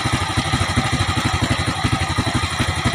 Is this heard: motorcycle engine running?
yes